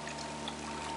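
Shallow water flowing in a ravine stream on a Yerba Buena hike, a soft continuous trickle and babble, quiet and steady over a short moment.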